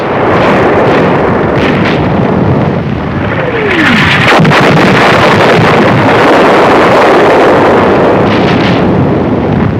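A shell explodes with a direct hit on an enemy 88mm gun position at the North African front, a loud blast rising out of a constant roaring, wind-buffeted rumble that carries on throughout.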